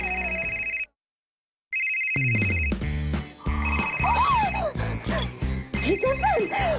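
A telephone rings for a radio call-in contest, its repeated electronic trills pausing briefly and then resuming, loud and close, with voices and other sounds mixing in beneath the later rings.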